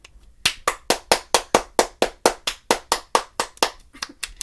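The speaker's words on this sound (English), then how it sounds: "Let's give her a round of applause." Applause for a card trick: about fifteen sharp, evenly spaced claps from a single pair of hands, close and fairly loud, in a steady rhythm with no talking.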